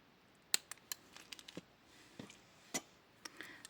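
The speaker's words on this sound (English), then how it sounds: "Snip my excess wire." Wire cutters snip off excess jewelry wire while an earring is made, giving a few sharp, close clicks spaced out against a quiet room.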